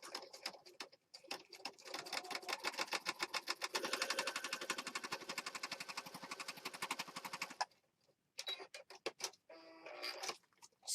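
A sewing machine runs a straight stitch down the center of a junk journal page. It gives a steady, rapid mechanical clatter lasting several seconds, preceded and followed by short bursts of stitching and pauses. The sound is moderately close and quiet.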